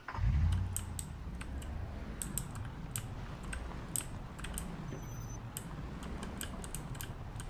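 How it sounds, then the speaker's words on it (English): Steady clicking and typing on a computer keyboard, scattered sharp keystrokes over a low room hum, with no talking. "we can hear you clicking and typing"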